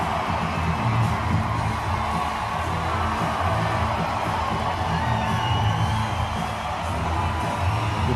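An adoring crowd at a political rally for a socialist candidate cheers and whoops in a dense, continuous roar of voices with no break.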